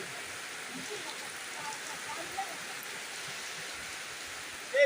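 Steady rain falls during a thunderstorm, a continuous soft broadband hiss of drops on surfaces with no distinct thunderclaps, holding at an even level throughout.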